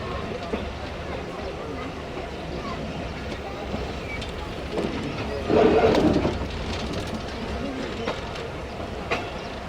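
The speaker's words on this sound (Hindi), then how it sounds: "काफ़ी स्लो डिपार्ट कर रहे हैं हम लोग प्लेटफॉर्म नंबर 5 से" The Musa Pak Express railcar pulls slowly away from platform 5 with a low, steady rumble and rattle of wheels, and a brief louder clatter midway.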